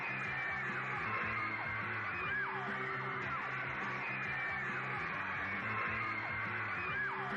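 Hysterical fans in 1963 Britain screaming as the band performs on stage, a dense, continuous wall of shrieks and yells from a large crowd throughout.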